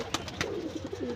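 Flying pigeons coo softly in a short, gentle burst of low, rolling calls, heard close but quiet with no voices.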